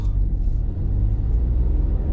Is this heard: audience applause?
no